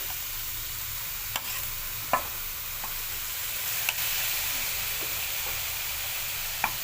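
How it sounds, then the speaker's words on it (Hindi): Grated carrots sizzle in a hot kadhai for gajar halwa, a steady close hiss of frying broken by occasional scraping clicks of stirring. "तो ये पूरा गाजर हम कढ़ाई में डाल दे रहे"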